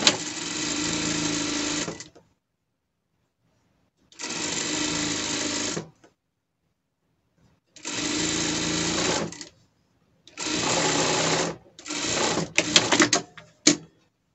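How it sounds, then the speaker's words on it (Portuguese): Overlock sewing machine gathering the skirt of a gala dress runs in loud, close bursts of rapid stitching, four long runs separated by silent pauses, then short stuttering spurts at the end. "depois a gente vai na overlock para franzir"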